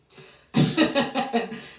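A man coughs in a quick burst of five or six harsh, close coughs after a short breath in.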